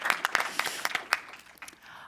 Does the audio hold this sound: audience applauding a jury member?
yes